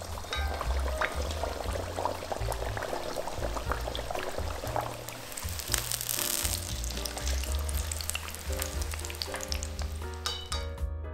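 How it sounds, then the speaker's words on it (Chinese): Meat pies filled with glass noodles deep-fry in oil over medium heat, giving a continuous close sizzle and crackle with a few small pops; no voices. "肉饼做好之后，就立马放到油锅里去炸"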